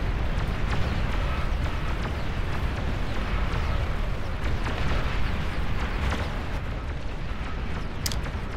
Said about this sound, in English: You do another shot of 4 missiles.